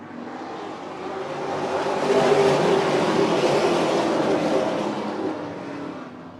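Super late model stock cars in the Easy-Kleen Super Late Model Series roar together down the backstretch of an oval track, a dense, sustained pack rumble swelling to a peak midway and easing slightly toward the end.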